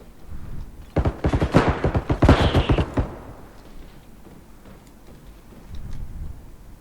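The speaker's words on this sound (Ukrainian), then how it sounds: "Десь стріляються, не можу зрозуміти." A rapid burst of about a dozen sharp gunshots in quick succession, loud and close, in the bodycam shooter game Bodycam, then a quieter game soundscape with faint distant noises.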